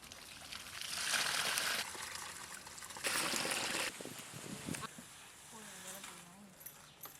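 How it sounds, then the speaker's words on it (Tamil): Water poured from a vessel into a dry, freshly dug earth pit in a village, heard as two bursts of splashing trickle with a quieter gap between and soft background noise. "கொஞ்சமா தண்ணி விட்டுக்கலாம்."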